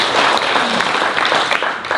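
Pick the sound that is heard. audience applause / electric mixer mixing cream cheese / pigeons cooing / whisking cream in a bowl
audience applause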